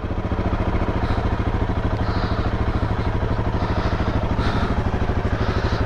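Royal Enfield Himalayan 450 motorcycle idling close by, a steady, even low thump with a faint mechanical clatter on top, running alone without pause for the whole stretch.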